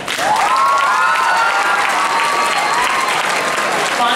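A crowd claps vigorously at a 2012 student speech event, the applause loud and continuous, mixed with some cheering and tonal crowd voices.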